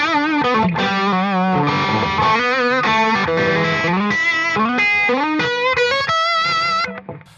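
Electric guitar played through a Timmy overdrive pedal on a Line 6 VP4 gives a loud, continuous run of sustained, gently distorted notes and bends with vibrato, ending in a short fade.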